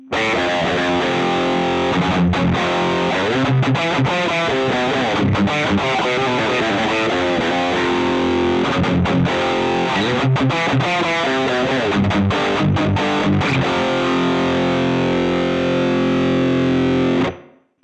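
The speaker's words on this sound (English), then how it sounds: "without the EQ pedal engaged, the tone sounds muddy and seems to be all over the place" Distorted electric guitar played through a Hotone Ampero II Stomp with its EQ pedal switched off, a loud, thick, continuous riff with chords and single notes running steadily and unbroken, heard alone.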